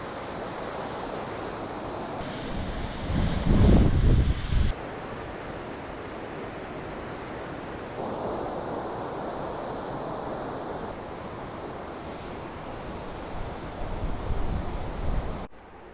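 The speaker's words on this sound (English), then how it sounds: "There's the waterfall." A waterfall seen from a high bridge on the NC500 in the Scottish Highlands gives a steady broadband rush of falling water, with wind buffeting the microphone and a couple of louder gusty surges.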